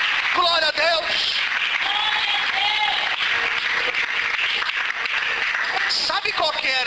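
A church congregation claps in continuous, dense applause while a voice speaks loudly over it throughout.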